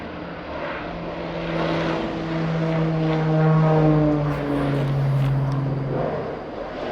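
Two firefighting planes pass over a forest during a wildfire, their propeller engines a steady droning hum that swells and then eases as they fly overhead, with no talking.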